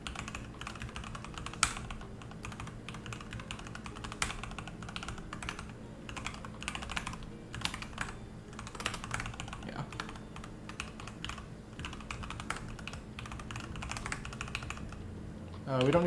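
Computer keyboard typing during programming work, with quiet, rapid irregular key clicks going on steadily throughout while a person talks.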